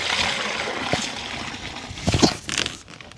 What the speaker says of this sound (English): I'm about to move the water into it